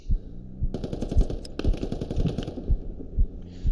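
Squad video game machine-gun fire, a loud rapid rhythmic burst of shots with heavy low thumps repeating steadily over a few seconds amid battle noise.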